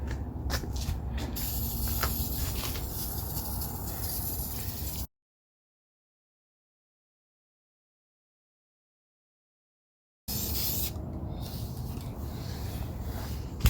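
Two bursts of spray paint hissing from a can onto grass outdoors, each about five seconds long, separated by a stretch of silence.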